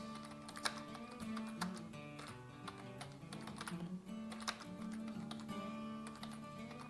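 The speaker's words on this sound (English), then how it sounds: "I know it makes for riveting content when I'm typing away here looking for..." Someone types on a computer keyboard in a quick, uneven run of close clicks and taps, heard over steady background music with no voices.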